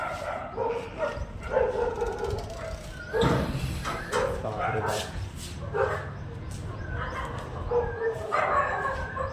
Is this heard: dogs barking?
yes